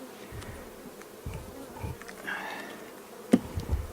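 Honeybees hum around an opened hive during an early spring inspection, a faint steady buzz with a few louder passes close by and a couple of light knocks near the end.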